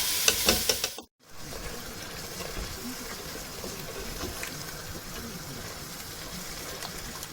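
Canned chopped tomatoes tipped into a hot pan for aloo gobi, a short clatter followed by a brief silence, then a steady, close frying sizzle with faint stirring scrapes.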